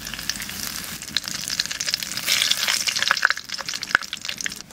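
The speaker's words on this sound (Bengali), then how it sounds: "প্রথমে আমি তেল দিয়ে দিচ্ছি, শুকনো লঙ্কা, গরম মশলা আমি দিয়ে দিচ্ছি" Dried red chillies and garam masala spices crackle and sizzle in hot oil, a close, busy frying hiss with sharp pops and spatters over a few seconds, no voices.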